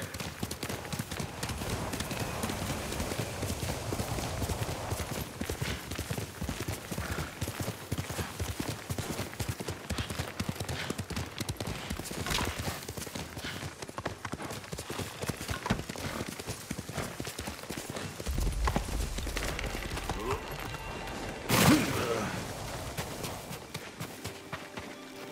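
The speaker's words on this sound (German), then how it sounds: "Pferd!" Rapid hoofbeats of a galloping horse in Ghost of Tsushima drum steadily under a dense game soundtrack, with a brief louder burst near the end.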